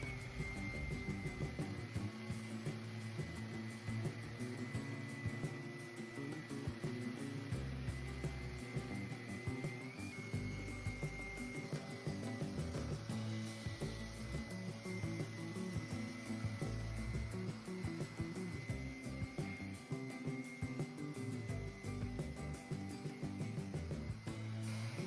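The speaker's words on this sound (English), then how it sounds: "to get into the corners and edges, I'm using my Skill detail sander" Continuous high-pitched whirring of a Skil detail sander sanding a wooden dresser, running steadily with a buzzing motor tone and no pauses.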